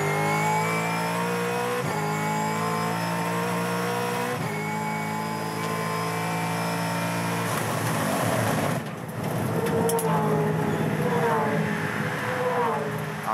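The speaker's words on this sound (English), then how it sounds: "Ugly metallic sounds from the back of that car." A Supercars race car engine drones loudly with harmonic whine at Sandown, then rough, metallic clattering from the back of the car breaks in toward the end, with a commentator talking over it.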